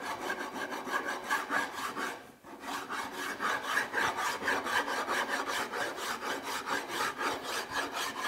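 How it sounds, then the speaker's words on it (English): Steady rasping of a file across wood, a rhythmic back-and-forth scrape repeated many times, close and continuous with a brief pause early on. "then I will come back and clean it up with a rasp and the sanding block"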